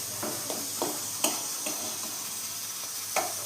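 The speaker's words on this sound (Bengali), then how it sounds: "এবার মশলাটা দিয়ে আলুটা নাড়াচাড়া করে নেব।" Potatoes with spices stirred in a hot, sizzling pan, a steady bright frying hiss throughout with several scraping stirring strokes spaced roughly every half second, close by and without talk.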